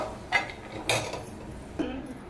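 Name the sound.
fried raisins transferred from pan into another bowl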